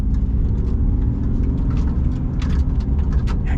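A Ram HD pickup truck engine pulls hard from inside the cab, a loud, steady low rumble of drivetrain and road noise with no talking over it.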